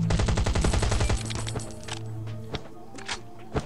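In a shooter video game, a rapid automatic burst of gunfire rings out loud and close for about a second, followed by scattered single shots and thuds.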